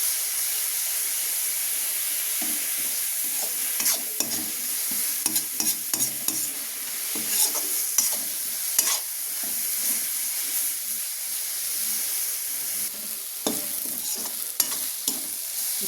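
Leafy greens mixed with rice flour sizzle and fry in a pan, with steady hissing and repeated scraping stirs breaking through at irregular intervals, heard close and without any voices.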